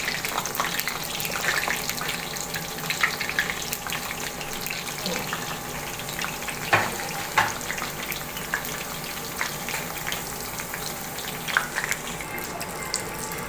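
Aloo samosas with chana filling deep fry in hot oil, a continuous close bubbling sizzle with occasional sharper crackles and scraping clinks of a utensil in the pan.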